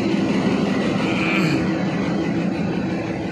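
A diesel-powered toy train, modelled on a 150-year-old British-era engine and running on thin track, gives off a steady, continuous mechanical rumble that holds at an even loudness throughout.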